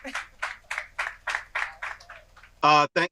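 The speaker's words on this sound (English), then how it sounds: "We can clap for that." Audience claps at an event, about ten separate claps at a steady pace, fairly close, ending in a short burst of voice.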